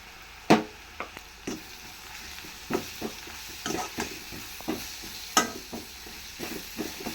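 Chicken frying in a pan with dry ground masala powder, with repeated stirring scrapes and clacks over a low, steady sizzle, spaced irregularly at close range with no talking.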